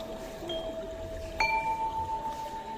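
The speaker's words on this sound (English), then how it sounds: "It's the sound of wind chimes." Motion-activated wind chimes on display at MoMA in New York ring with a few clear, sustained metallic tones, one new note struck midway and lingering over a soft room hum.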